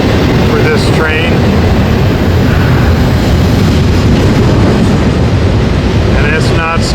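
A freight train runs past without stopping, a loud continuous roar of rolling cars with faint wheel squeals rising now and then.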